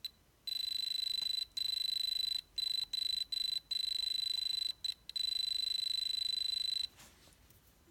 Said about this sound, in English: It's tricky because when it hits metal, it makes a noise.